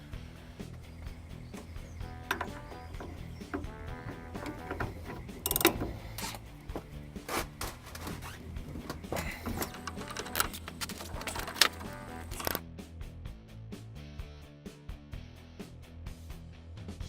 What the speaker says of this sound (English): I should be able to then wind that up and slowly pull the bolt off